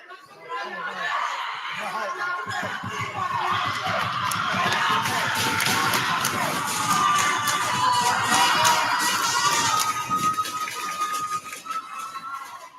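High school basketball crowd at a Manhattan gym game, a loud, sustained roar of screaming, cheering and laughter swelling over several seconds, with talk mixed in.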